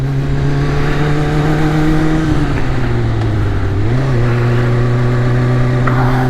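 A 2001 Kawasaki Ninja ZX-6R motorcycle engine drones loudly and steadily close up as the bike accelerates, its pitch rising, dipping at a shift and climbing again, with no speech.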